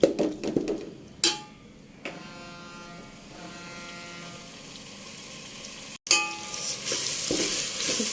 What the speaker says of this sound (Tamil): ஆனியன் இதெல்லாமே வந்து நல்லா வதங்கிடுச்சு.